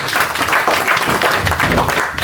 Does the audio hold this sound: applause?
yes